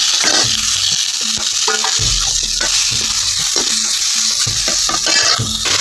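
Onions frying in a pan of oil with cinnamon and bay leaf make a loud, steady sizzle up close, with a spatula stirring and scraping rhythmically throughout.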